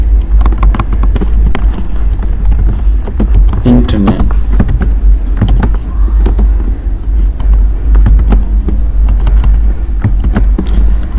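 Keys clatter in short irregular bursts as C code is typed on a computer keyboard in Turbo C++, close up over a steady low hum, with no speech.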